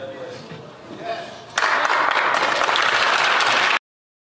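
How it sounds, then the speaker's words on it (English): Members of the Canadian House of Commons break into loud, sustained applause that starts abruptly after a short stretch of chamber speech and cuts off sharply. "they start clapping and all the bullshit"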